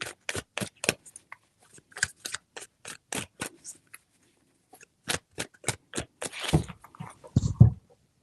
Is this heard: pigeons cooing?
no